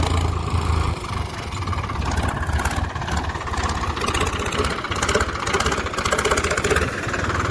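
A tractor engine runs steadily at close range in a paddy-harvest field, a continuous rough diesel drone with a knocking pulse and no pauses over the whole stretch.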